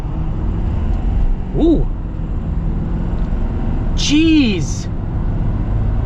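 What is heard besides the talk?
Ford F-450 Black Ops dually truck accelerating hard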